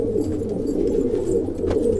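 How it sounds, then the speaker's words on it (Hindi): Patiala pigeons coo continuously and close by, a dense rolling murmur of several birds with no talk over it. "बहुत ही शानदार कबूतर है"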